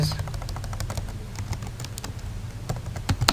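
Quick, light keystrokes on a computer keyboard while writing a WordPress post, a steady patter of clicks alone with no talk.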